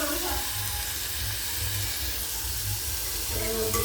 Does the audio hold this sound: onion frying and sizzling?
yes